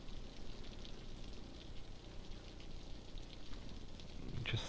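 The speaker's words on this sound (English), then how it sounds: "What can we do to stop the rain?" Rain in the city-building game Cities: Skylines gives a constant gentle hiss and patter, low and even, with a small clatter at the very end.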